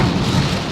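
Heavy rain drums steadily on the body of a moving Daihatsu Ayla on a road trip, a dense, loud wash of noise with no speech.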